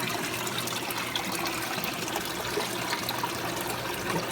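Water pours out of the elbows of a DIY hang-on-back aquarium filter in a continuous, even splashing trickle, close and steady throughout, with no voices.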